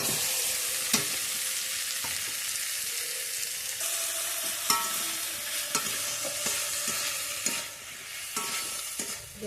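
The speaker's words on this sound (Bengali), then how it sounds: "এবার আমি আলু ফুলকপি ভেজে রাখা আলু ফুলকপিটা দিয়ে দেবো" Fried potato and cauliflower stirred into sizzling masala in a pan, a steady crackling fry broken by repeated clattering scrapes and knocks of the spatula, close and alone.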